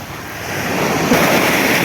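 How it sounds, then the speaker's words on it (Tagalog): Ocean surf washing onto a beach, a steady broadband roar that swells slightly louder toward the end, with some wind buffeting the microphone and no voices. "Ang ganda ng alon."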